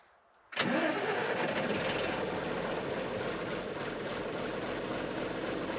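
A heavy diesel engine of an Åkerman H10B excavator cranks and catches, then settles into a steady rumbling idle close by.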